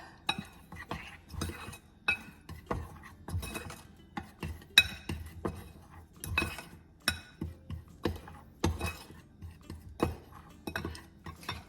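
Seasoned salt and Cajun spices are mixed in a bowl as chicken tenders are prepared, giving a steady run of soft, close clinks and scrapes of a utensil against the bowl, repeating roughly every half second under faint room noise.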